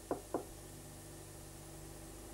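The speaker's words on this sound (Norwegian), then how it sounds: "vi får prøve å banke på den døra her borte, se om det er noen der." Two sharp knocks on a wooden door in quick succession, then quiet with only a low steady hum; from a short fairy-tale adventure set in Oslo.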